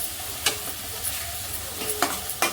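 Chopped tomato sautéing with onions in a pan, with a steady low sizzle broken by a few sharp scraping stirs of a spoon against the pan, close and alone with no voices.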